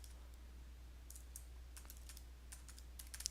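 Soft, quick keystrokes on a computer keyboard typing a new folder name, faint and close, in short irregular clusters over a steady low hum.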